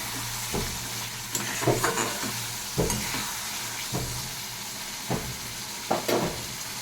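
Spice masala with salt, turmeric and green chillies frying in a pan, steady sizzle punctuated by about eight sharp scraping stirs at irregular intervals, close and alone.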